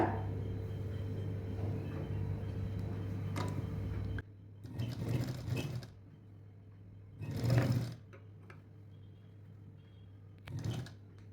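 Sewing machine stitching the front panel of a 38-inch three-piece princess-cut blouse, a steady motor hum running through the first few seconds, then three separate short bursts of stitching with quiet pauses between them.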